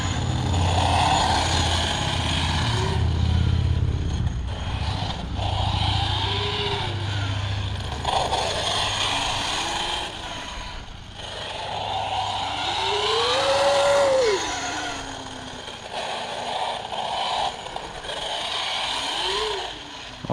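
A Traxxas X-Maxx 8S RC car drives on and on, its electric motor whining up and down in pitch over a constant rushing roar of tyres and drivetrain, with no pause.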